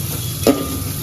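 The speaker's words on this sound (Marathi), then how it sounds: "बघू शकता कांद्याला फोडणी दिली, कांदा पिवळा झालाय." Onions fry in hot tempering for a dry chicken dish. A steady close sizzle runs throughout, with one brief stir of the spoon scraping through the middle.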